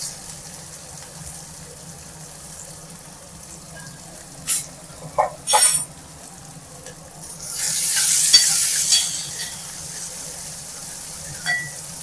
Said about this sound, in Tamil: இதை நல்லா தாளிச்சுக்கலாம்